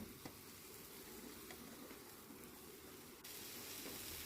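Mango pieces frying in a little oil with salt and a pinch of turmeric, a faint, steady sizzle with soft crackling and an occasional stir, no voices.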